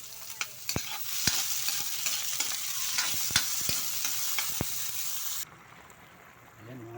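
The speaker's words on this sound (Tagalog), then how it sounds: "ginisan muna natin sibuyas, bawang para lumabas yung aroma ng luya, bawang" Onion, garlic and ginger sautéing in a pan for a tuna picadillo, a continuous close sizzle punctuated by sharp spoon taps against the pan, cutting to a quieter stretch near the end.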